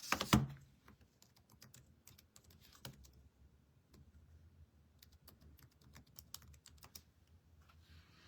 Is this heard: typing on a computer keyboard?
yes